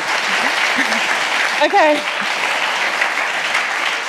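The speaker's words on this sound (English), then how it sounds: "I think that deserves a round of applause." Audience applause at a mathematics lecture on Benford's law, a steady broadband clatter of many hands clapping throughout, with someone briefly speaking over it near the middle.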